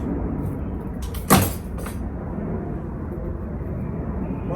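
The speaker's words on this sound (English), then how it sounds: "I've just heard a plane flying overhead." Outdoors beside a spruce being shaped into a bonsai, a brief low rush of a plane flying overhead swells out of a steady broadband background and fades within a second or so.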